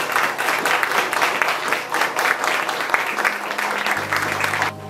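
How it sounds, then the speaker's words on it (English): An audience applauds Justin at a fish-tank showroom masterclass in Norway, dense clapping that runs steadily and loud for several seconds before cutting off near the end. "Everybody give a big applause for Justin."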